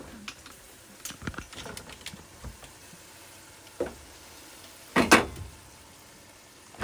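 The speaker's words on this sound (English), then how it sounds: "Make sure that you stir in between." Mango curry cooks in a pot on the stove: a faint, soft background bubble with scattered scrapes and clinks from stirring, close by and sparse, with no talk.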